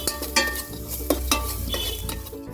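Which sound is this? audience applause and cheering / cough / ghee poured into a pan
ghee poured into a pan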